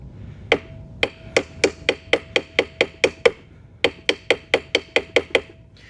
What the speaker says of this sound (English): We're actually going to take the nylon and the hammer, and we're just going to give it a few taps here